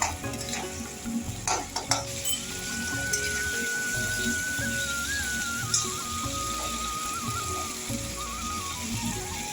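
Spices for mutton curry are stir-fried with meat-boiling stock, making a strong, constant sizzle and bubbling hiss, with scraping stirs and a faint tonal hum running beneath.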